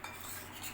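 A spoon briefly stirs an onion salad in a bowl, dressed with a hot garlic tempering. The clinking and scraping is soft and faint, with no voices.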